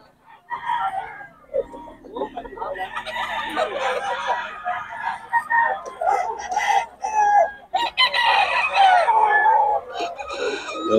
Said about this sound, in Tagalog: Ang gulo ng manok.